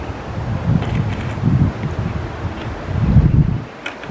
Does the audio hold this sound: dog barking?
no